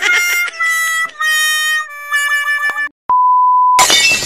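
A mobile phone call in progress gives a series of electronic tones and beeps, ending with a steady, clear single-pitch tone that holds for under a second before other noise cuts in.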